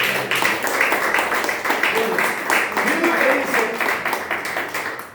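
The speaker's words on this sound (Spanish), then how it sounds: "Démosle un aplauso." A congregation claps in a church, a steady wash of applause lasting a few seconds, with some voices mixed underneath.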